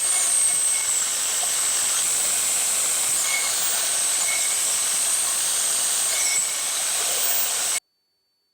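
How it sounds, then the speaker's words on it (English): A bandsaw runs steadily with a continuous high, hissing whine while cutting out knife scales, close and unbroken for several seconds before stopping abruptly. "Now I can go cut this out on the bandsaw."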